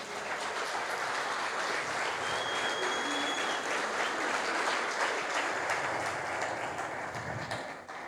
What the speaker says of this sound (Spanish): Y si tienen ganas de aplaudir, le aplaudimos realmente.